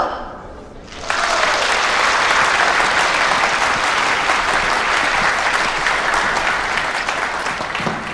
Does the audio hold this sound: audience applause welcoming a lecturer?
yes